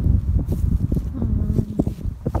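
Bees from a beekeeper's hive buzz close around someone in a protective suit and gloves, a continuous low drone with passing swells and rustling movement, no talk.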